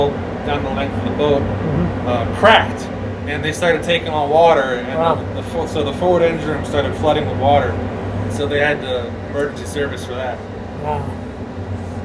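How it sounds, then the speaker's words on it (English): Ventilation blowers aboard the USS Becuna submarine push fresh air into the boat with a steady, droning mechanical hum that runs unbroken beneath someone talking throughout. "That's the our blowers, so that brings fresh air into the boat."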